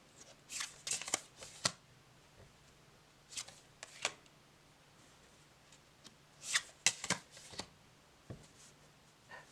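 Soul Trees Oracle cards being shuffled by hand, several short riffling bursts and soft slaps close by with quiet gaps between them.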